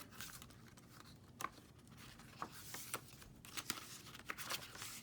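Tissue paper being handled while wrapping Halloween crafts, with soft crinkles and sharper rustling bursts close by and quiet, irregular throughout.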